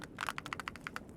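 Quick run of crisp clacks as someone types on a custom mechanical keyboard, about a dozen close, sharp keystrokes in an uneven fast rhythm, no voices.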